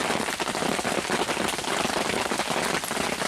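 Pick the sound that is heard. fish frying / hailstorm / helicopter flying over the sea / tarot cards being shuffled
hailstorm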